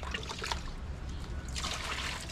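Water is poured and trickles to refill a container, a close, gurgling splash that swells louder toward the end.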